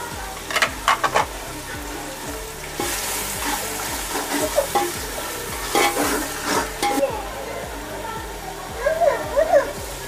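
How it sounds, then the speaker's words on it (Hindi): Masala with green chillies fries in a pan for a pulao, giving a soft continuous sizzle with rhythmic scraping and stirring, while someone talks over it and faint background voices drift in. "हमें अपने इस मसाले को 2 से 3 मिनट तक अच्छे से भूनना है।"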